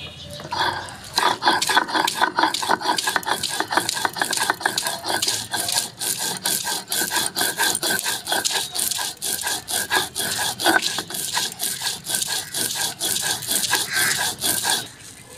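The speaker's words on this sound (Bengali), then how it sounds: "এবার আমি একটুখানি নারকেল বেটে নিচ্ছি।" Coconut is ground into a paste with continuous rhythmic back-and-forth scraping strokes that rasp steadily at close range, with no talking.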